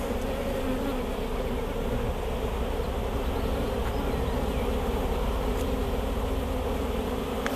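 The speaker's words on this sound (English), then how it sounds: "all our flying bees are coming in now" Honeybees flying back into a hive during queen rearing make a dense, continuous buzzing hum, loud and close throughout with no voices.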